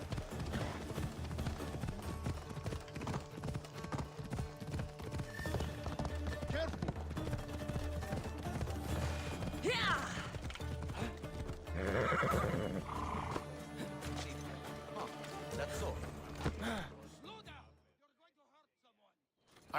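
Horse hooves clatter in a fast galloping rhythm over a busy Assassin's Creed Odyssey game soundscape, with a whinny and clanking gear, then everything drops away to near silence.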